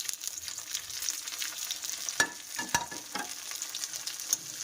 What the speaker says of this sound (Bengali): এই দেখো পেঁয়াজ কিন্তু একদম ব্রাউন কালার ভাজা হয়ে গেছে এর মধ্যে এবার দিয়ে দেবো টমেটো কুচি